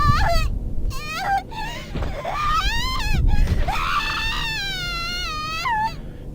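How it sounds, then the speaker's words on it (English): Agonized, drawn-out screaming from a female character, Yuka, in the horror game Corpse Party, rising and breaking in waves of shrill, primal wails with brief gasping gaps, loud and close throughout. "waves of unbearable agony trigger unconscious screams of primal, nearly animalistic torment"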